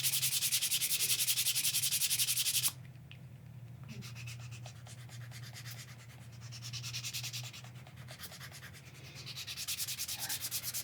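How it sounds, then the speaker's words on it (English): A quick hand-sanding job rubs abrasive paper back and forth in short strokes, crisp and close, with a brief pause before the scratchy rubbing resumes at a steady pace. "Do a super quick sanding job."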